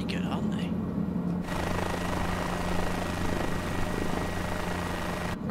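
A helicopter engine and rotor in Microsoft Flight Simulator drone steadily with a low hum and whine while someone talks over it in the opening moments.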